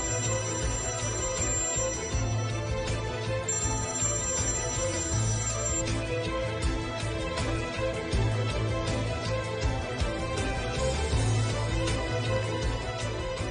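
A mobile phone rings on and on with nobody answering, an electronic ringtone repeating its looping melody at a steady level for the whole stretch, with no talking over it.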